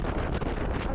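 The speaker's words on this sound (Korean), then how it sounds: "오토바이가 밀릴 정도로 바람이 세네요." Strong wind gusting hard enough to push a motorbike, buffeting the microphone with a dense low roar for about a second, on a street in Da Nang.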